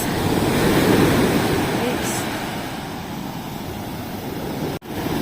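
Ocean waves breaking on a beach shore in September, a steady broad wash of surf with gusting wind noise against the microphone, loud and continuous without a break.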